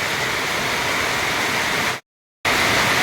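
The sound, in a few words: heavy rain pouring over flooded rice field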